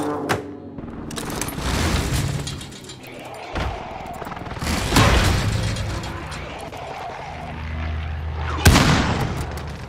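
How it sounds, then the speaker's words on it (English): Airstrike explosions in the Warzone video game: several booming blasts and bursts rumble in close succession over about ten seconds, with clattering debris and a sharp final hit, and a voice speaks briefly among the impacts. "Enemy precision airstrike."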